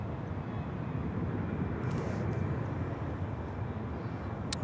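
An American Airlines airliner arriving from Frankfurt at Charlotte Douglas International Airport makes a steady, broad engine roar from a distance, even in level throughout with no talking.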